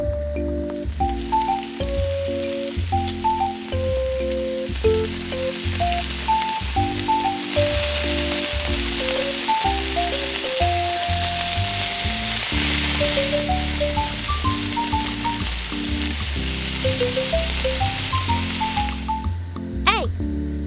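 Miniature bacon fries in cooking oil with a constant crackling sizzle that is partly buried under prominent background music throughout.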